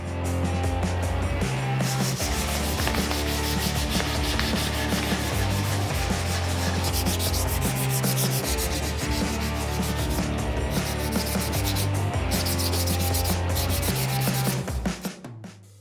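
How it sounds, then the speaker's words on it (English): A Scotch-Brite pad scuffs metal garden tool parts in steady, continuous rubbing strokes, heard under loud rhythmic music throughout. "I kind of scotch-brighted the metal parts to clean those up just a little bit"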